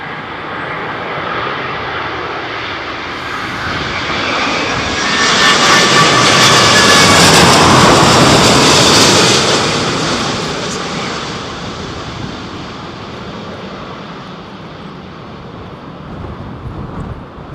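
An Airbus A380 airliner lands in strong storm winds at Heathrow Airport, its engine roar swelling as it passes close, peaking, then easing into a steady broad rush with wind noise, no talk.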